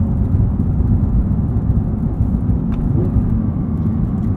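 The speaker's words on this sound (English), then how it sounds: "the exhaust gets a little bit quieter in this mode too" Steady low engine and exhaust drone from a 2022 Porsche 911 GT3 with manual gearbox in normal mode while driving, a continuous moderately loud rumble with road noise and no talk.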